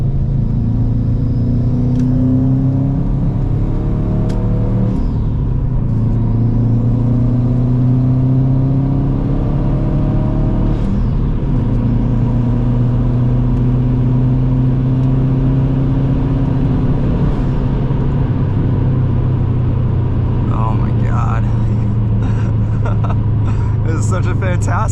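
Car engine droning steadily through a POV highway drive at sunset, a low sustained hum with slow swells in pitch as it revs and cruises, continuous and close throughout.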